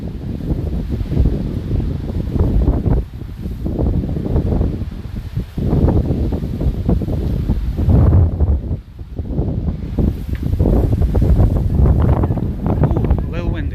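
Gusty wind buffets an outdoor microphone with steady loud rumbling, while a voice speaks over it throughout.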